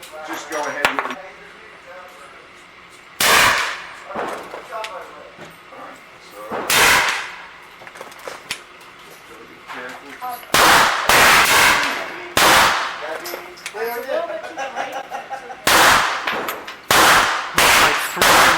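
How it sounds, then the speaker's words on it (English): Handgun shots firing traditional lube wad cutter cast bullets at a range target, loud sharp reports spaced irregularly, some isolated and some in quicker pairs, with background noise between. "Let's shoot the right-hand target now, traditional wad cutter."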